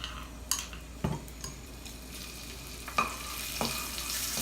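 Smashed garlic frying in oil over medium-high heat, a quiet steady sizzle with occasional soft taps and scrapes of a utensil against the pan.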